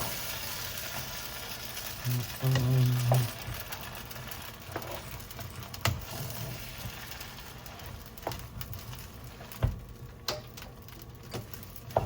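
Seafood vermicelli stir-fries in a pan on low heat, making a soft, continuous sizzle with scattered ticks and clinks. A brief louder scrape comes early, and no one talks.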